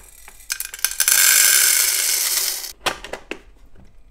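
Popcorn kernels pour into a popcorn machine in a loud rattling rush lasting over a second, followed by a few scattered clicks and clatters of stray kernels, close up.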